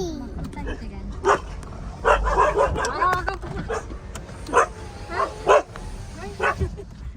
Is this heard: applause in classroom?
no